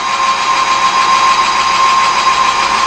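A metal lathe boring a bracket at about 800 RPM, chips loading the cut, gives a steady loud whine with a sharp tonal ring and no pauses.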